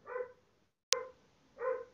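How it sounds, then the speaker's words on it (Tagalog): A neighbouring dog barks from a short distance: two separate, fairly loud barks about a second and a half apart, with a sharp knock between them and no talking. "pagpasensya nyo na yung ingay ng aso sa kapitbahay"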